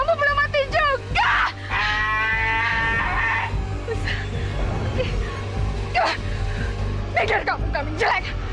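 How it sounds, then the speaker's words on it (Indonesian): Several goats chase someone along a village path, giving loud, wavering bleats in short bursts close by, mixed with shuffling and other background noise. "Itu kambing-kambing ngejar aku."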